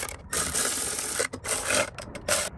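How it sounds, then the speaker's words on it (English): Milwaukee ratchet cinching plenum bolts on a Toyota 3.4L V6 5VZ-FE engine, giving loud close buzzing runs broken by short pauses. "I'm gonna cinch them up first with the Milwaukee ratchet."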